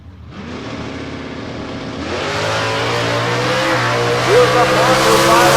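A 1967 Shelby Camaro drag car launches off the line at a bracket race, engine revving up and climbing loudly in pitch as it pulls away, close and powerful with a faint announcer voice beneath.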